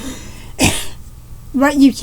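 A single short, breathy cough, fairly close, followed by a brief voiced sound, with quiet pauses around it.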